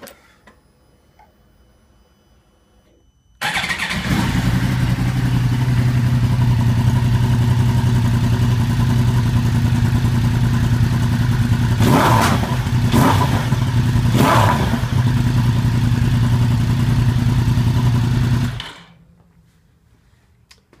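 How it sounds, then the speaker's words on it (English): A Yamaha R1 crossplane motorcycle engine with an Arrow GP2 exhaust starts abruptly and idles loudly and steadily with a deep, uneven burble, blipped a few times, then cuts off into silence. "This exhaust brings out the characteristic of that crossplane engine."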